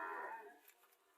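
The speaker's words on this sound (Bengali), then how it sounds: "এখানে কিছু গাভী দেখা যাইতেছে" A cow at a cattle market in Cumilla gives a single faint, distant moo that trails off quickly into quiet background.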